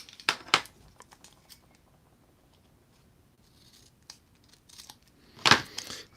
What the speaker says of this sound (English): I'm going to grab some blue tape, and I'm going to cut it out to fit the shape.